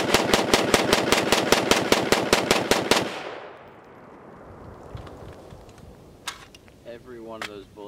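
A PSA Freedom AR rifle fires a rapid string of about fifteen evenly spaced, loud gunshots, followed by fading echo and quieter handling sounds with a brief voice near the end.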